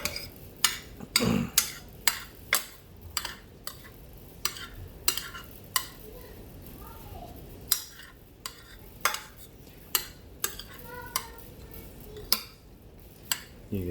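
A spoon scrapes and clinks against a pan mixing keto paella rice in a steady, repeated rhythm over a faint sizzling background, with no talking.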